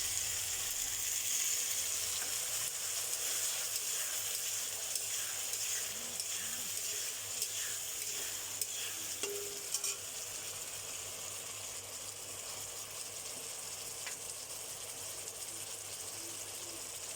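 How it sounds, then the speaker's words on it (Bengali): Potatoes fry with spices in a pan, giving a steady, soft sizzle throughout with faint stirring scrapes now and then and no speech. "তো আমার আলুগুলো ভাজা হয়ে গেছে। এবার এখানে মশলা অ্যাড করছি।"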